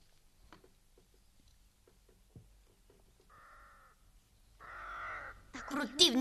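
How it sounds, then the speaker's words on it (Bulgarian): Ravens caw in a quiet setting, with faint ticks and rustles at first, then two hoarse caws midway and a louder, harsher round of calling that grows close and loud at the end. "Противни гарвани. Постоянно ме зяпат."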